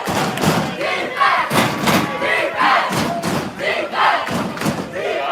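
Hilltop supporters in a packed crowd at a CIF Division 3 boys water polo final against Ramona chant and cheer loudly in rhythm, with regular thumping stomps or claps marking each beat.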